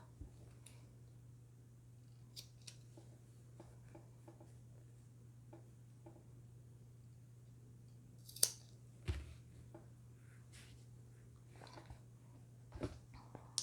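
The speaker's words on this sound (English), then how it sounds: "Very, very tiny snip." Scissors make tiny snips in fabric while a sling is being sewn: faint, sparse little clicks and cuts scattered over a steady low hum, with a couple of slightly sharper snips standing out.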